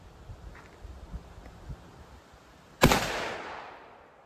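At an outdoor shooting range, a single sharp gunshot aimed at a Tannerite target cracks out after quiet rustling and wind, followed by a fading echo.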